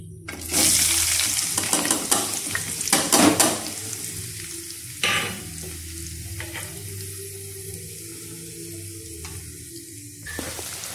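Chopped onions hit hot oil already sizzling with bay leaves, cumin seeds and cardamom for a mushroom gravy, giving a loud steady frying hiss with stirring scrapes and clatter, no voices.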